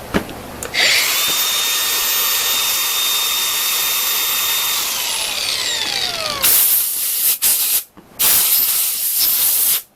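A serviced Makita DGA404 18V 4-inch brushless cordless angle grinder spins up to a loud, close whine, its pitch sliding as it winds down, then bursts on and off in several short runs.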